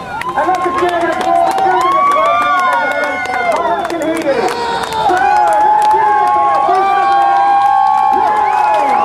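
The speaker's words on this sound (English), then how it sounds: "Let's have a big cheer now. And let's begin the applause." A large crowd at an air show open house cheers and claps continuously and loudly, whoops and shouts rising and falling over a thick bed of applause and babble.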